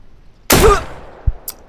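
One sharp, loud shot from an AK-SM in the Deadside video game rings out alone, followed by a couple of fainter, brief thumps and clicks.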